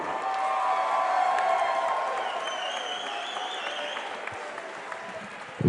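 Crowd at a cage-fighting event cheering and applauding loudly and steadily, with whoops rising above the sustained clapping throughout.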